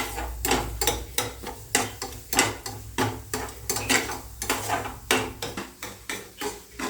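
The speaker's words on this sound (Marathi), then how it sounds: "मी रवा आता छानपैकी भाजून घेते त्याला चांगलं लाल होईपर्यंत भाजून घ्यायचं आहे" Semolina (rava) being roasted in a pan for sheera, a spoon scraping and knocking against the pan in a steady rhythm of sharp, close clatters that keeps going throughout.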